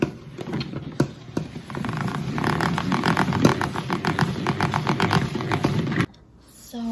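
A salad spinner whirls wet washed backyard lettuce dry, a close rattling whir with rhythmic clicking pulses that builds and runs steadily for several seconds, then stops abruptly.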